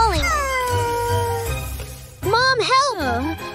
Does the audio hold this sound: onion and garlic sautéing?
no